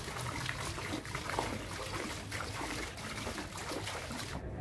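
Water trickles steadily from an early Christian amphora at the centre of a courtyard fountain. The splashing and dribbling is continuous and moderately loud, with no talk.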